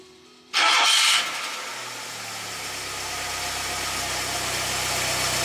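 A car engine cranks briefly and catches, loud at first, then settles into a steady low idle that carries on to the end, heard up close during work on the Hall sensor ignition.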